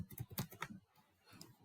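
Someone types a VPN tunnel shared secret password on a computer keyboard, producing a quick cluster of close key clicks, a short pause, then a few more taps.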